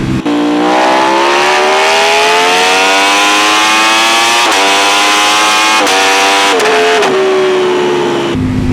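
A Ducati Panigale V4 Speciale, a 226 hp sport motorcycle, accelerates hard through long gears, its loud close engine howl rising in pitch with several sharp shift breaks, alone with no talk.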